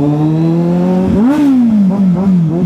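Kawasaki Z800 motorcycle accelerating while riding, a loud close engine tone that climbs, drops with a gear shift and climbs again, wind rushing steadily underneath.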